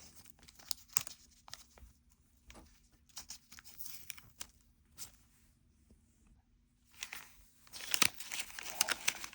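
Stuck-on pieces being pulled and torn off the pages of a chunky paper planner, a run of close crinkling and tearing bursts with short pauses, growing louder and denser toward the end.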